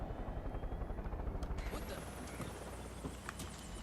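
A helicopter in the Far Cry 5 video game thumps with a steady rotor beat close by, then the pulse fades into a mechanical whine with scattered clicks.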